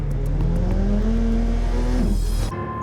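A Radical SRT race car engine idles and drones with a slowly rising pitch, then drops abruptly as it struggles to downshift into first, loud and close with no talk.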